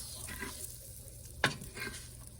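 Short-grain arborio or carnaroli rice sautéing in an Instant Pot, a soft steady sizzle with a few scraping stirs and one sharper clack of the utensil against the pot.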